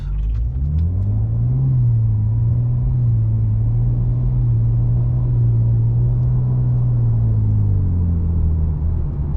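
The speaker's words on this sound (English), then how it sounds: "I'm just going to show you guys a drive, acceleration in drive, just like normal low load" A BMW E90 335i with a 6HP21 six-speed automatic accelerates in drive under light load, its engine droning steadily and close with a low hum that rises and dips slightly as it shifts through gears.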